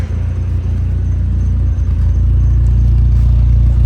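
A restored car engine idles steadily with a low, even rumble and light mechanical clatter, close and continuous with no voices.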